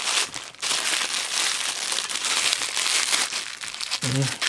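A cellophane bag holding a parcel from China is torn open, giving loud, close, continuous crinkling and crackling that fills the clip, with a brief voice near the end.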